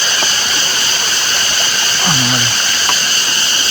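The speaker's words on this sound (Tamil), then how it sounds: "குட்டி அருவி இது." Small waterfall on the Agasthiyar mountain trail, a loud continuous rush of falling water close by, with a brief low voice sound in the middle.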